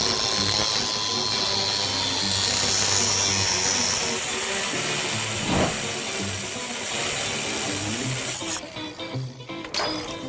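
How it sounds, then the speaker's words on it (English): A power tool cuts through the Samurai's steel spring plates in a loud, continuous grinding whine that carries a brief sharper squeal near the middle, then breaks into uneven rattling toward the end. "I'm gonna cut these off of the Samurai plates and weld them on in the right place over there."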